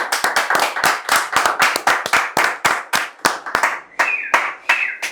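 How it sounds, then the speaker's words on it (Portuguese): Near the end of a business show's first episode, a few people on the team clap close by in sharp, distinct, irregular claps that slowly thin out over several seconds, with a brief faint voice under them. "queria pedir à equipe uma salva de palmas para todos nós"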